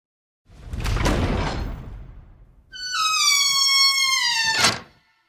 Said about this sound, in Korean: 안쪽에서 묵직한 노쇠 빗장이 철컥하고 벗겨지는 소리가 들리더니 문이 끽 소리를 내며 안으로 열렸습니다.